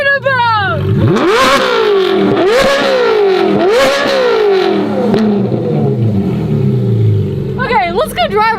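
A Ferrari 458 fitted with F1 race headers revs hard toward 9000 RPM, its engine rising and falling in loud, screaming sweeps that repeat several times, with excited voices and exclamations over and around it.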